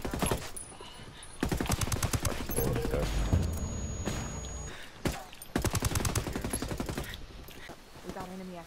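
Rapid video-game gunfire in repeated bursts, loud and close, with pauses between volleys and shouted voices from players over the shooting.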